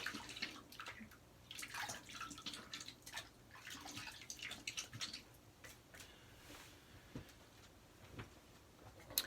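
Running water splashes and drips nearby as a face is rinsed after a wet shave, an uneven stream of splashes and trickles at moderate volume with no talking.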